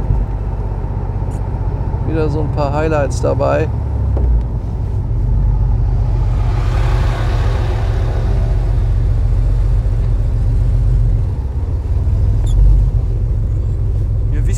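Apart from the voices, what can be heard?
truck transporting cars arriving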